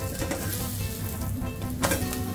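A thalipeeth just flipped in a hot pan, sizzling loudly and steadily with crackling oil and a brief stronger burst near the end, close and alone.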